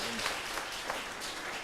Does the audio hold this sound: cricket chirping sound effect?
no